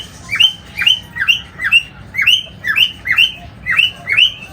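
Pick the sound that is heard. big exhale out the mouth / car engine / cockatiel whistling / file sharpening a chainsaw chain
cockatiel whistling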